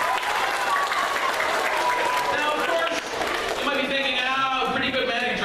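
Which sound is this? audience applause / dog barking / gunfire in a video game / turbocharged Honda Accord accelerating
audience applause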